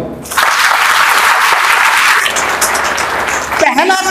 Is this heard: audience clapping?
yes